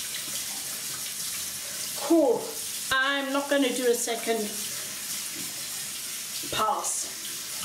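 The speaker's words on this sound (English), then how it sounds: "You can listen to the noise, water noise, can't you?" Warm water runs from a bathroom tap in a steady broadband wash, with brief louder splashes as it is used, and someone talks over it for part of the clip.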